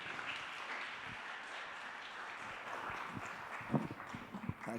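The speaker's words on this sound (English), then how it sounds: "Give them a round of applause" Faint, distant applause from an audience at a literature festival panel session, a soft steady patter of clapping with a few sharper nearby claps toward the end.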